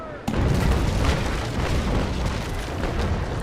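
A broadside of sailing-ship cannons in the naval combat game erupts in a sudden loud boom, then rolls on as a heavy, sustained rumble of overlapping blasts.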